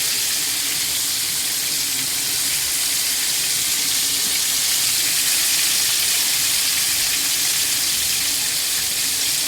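Chicken frying in hot oil, a steady dense sizzle with splattering that holds at an even level throughout, with no talk over it.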